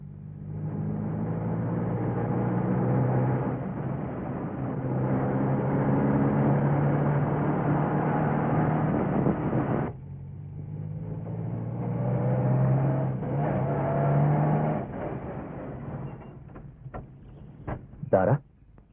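A car engine drones steadily with low harmonic hum, dips around the midpoint, then resumes before winding down and stopping near the end, with a few sharp knocks as it halts.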